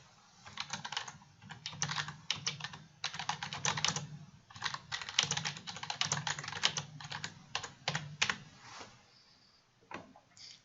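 Rapid typing on a computer keyboard, with bursts of close clicking keystrokes separated by short pauses and a faint low hum underneath, ending in a few scattered taps.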